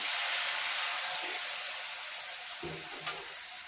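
Fish sautéing with spices and a little broth in a pan gives a soft, steady sizzle that fades slightly, with a brief clink of stirring near the end.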